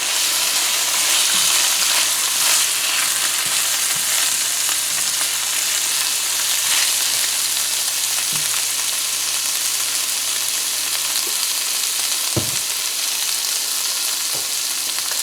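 Washed rice frying in a seasoned pan for Spanish rice, a dense, continuous close sizzle with occasional stirring scrapes and taps, no talking.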